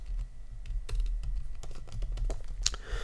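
Code being typed on a computer keyboard: a steady run of close, crisp keystrokes with uneven rhythm and a few louder key hits, over a low background hum.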